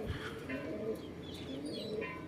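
Racing pigeons cooing, soft low rolling coos repeating a few times close by, with faint bird chirps and a light background hiss.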